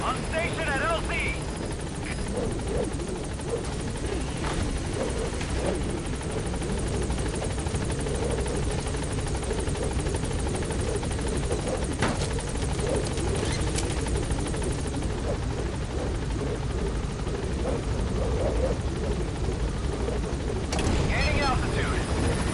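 A support helicopter in Metal Gear Solid V arriving at a landing zone: a steady, loud rotor drone runs throughout, with radio chatter and other game sounds layered over it.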